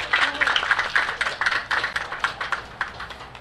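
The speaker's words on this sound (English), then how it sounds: "Give them a round of applause, please." A crowd at the Vallejo Pista sa Nayon 2018 community event claps for honored officials, a dense, fairly close patter of hand claps lasting a few seconds with voices mixed in.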